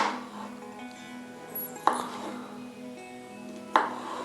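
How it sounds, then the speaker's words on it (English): Knife chopping sweet banana into slices on a cutting board, with two sharp, separate cuts about two seconds apart over a quiet kitchen background. "Now let's get the cutting. Chop, chop, chop."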